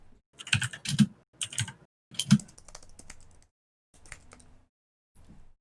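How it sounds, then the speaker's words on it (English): Fingers type on a Mac keyboard in short bursts of rapid close key clicks separated by pauses, loud and crisp with no voices over them. "Yes, I'm typing on my Mac."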